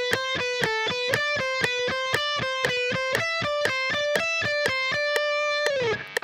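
Distorted electric guitar picking a fast speed exercise at 120 bpm, two notes per click, in a steady even stream of sharp attacks that stops abruptly near the end.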